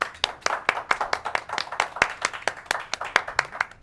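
Scattered, rhythmic hand clapping from a small audience for a young performer at a live band show, distinct individual claps close by, brief and irregular.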